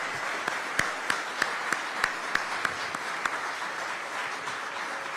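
Audience applause at a city of Aurora innovation and technology event, a soft, distant wash of clapping with a handful of sharper individual claps standing out near the start.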